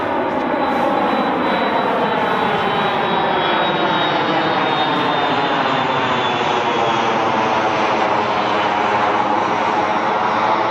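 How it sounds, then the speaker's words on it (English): Airplane passing overhead, a loud, steady jet-engine roar that fills the scene throughout, with a slowly falling whine as the aircraft moves away. "I'm gonna let this plane pass."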